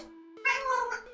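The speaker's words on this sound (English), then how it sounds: "my cat is in front of my cam" A pet cat gives a single drawn-out meow close to the microphone, rising after a quiet moment and trailing off, clear and alone.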